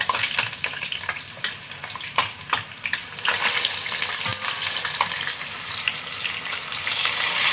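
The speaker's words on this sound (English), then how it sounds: "So I think our oil is hot now, so we're gonna be, it's ready. It's ready for fry." Okra pieces frying in hot oil, a steady crackling sizzle with sharp pops and spatters early on, settling into a continuous bubbling hiss close by.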